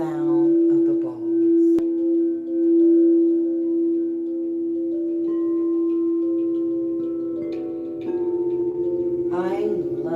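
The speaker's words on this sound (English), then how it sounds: "I love the sound of the bowls." A sustained, ringing bowl tone hums steadily with shimmering overtones, new strikes layering in over the drone; a faint voice briefly appears near the end.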